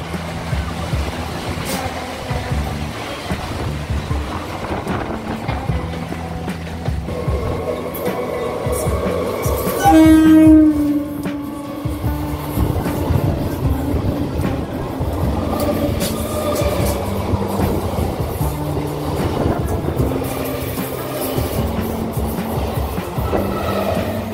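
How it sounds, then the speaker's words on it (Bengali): A down Tarakeswar–Howrah local train runs steadily into Seoraphuli Junction, with continuous rail rumble and wheel clatter throughout and a loud, brief horn-like tone near the middle. "আমাদের ট্রেন প্রবেশ করেছে শেওড়াফুলি জংশন।"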